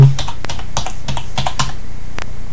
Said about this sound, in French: Si je tape AZERTY